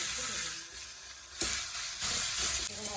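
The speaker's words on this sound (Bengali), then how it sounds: "খুব বেশি ফ্রাই করবো না, জাস্ট এপাশ ওপাশ করে ভেজে নিয়ে" Chicken pieces for a curry frying in oil in a pan, a steady close sizzle with brief stirring clatters and a sharp scrape partway through, no talking.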